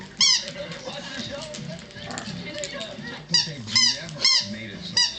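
A dog squeaks a toy in quick bursts of high, shrill squeals, several in a row near the end, while a television voice talks continuously underneath.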